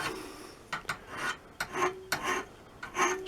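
Rasping strokes of a screwdriver tip being sharpened and cleaned up, a handful of short scraping passes at close range with brief pauses between them, no talking.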